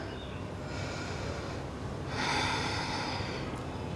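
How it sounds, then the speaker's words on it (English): During a yoga flow, a single deep breath fills a quiet room: a long slow inhale, then a stronger, breathy exhale partway through. "One more deep breath."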